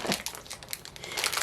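Plastic packaging of mixed berry flavored dog treats crinkles and crumples in bursts as someone struggles to open it, close by and loud, with no talking.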